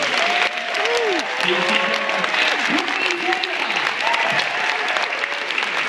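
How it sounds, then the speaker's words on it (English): Convention crowd at MCM Scotland 2014 applauding loudly and steadily, with whoops and cheering voices rising and falling through the clapping. "join me giving a massive round of applause to our two guys"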